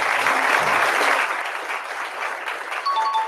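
Studio audience applause during a podcast event, a dense burst of clapping that holds steady at moderate volume for a few seconds.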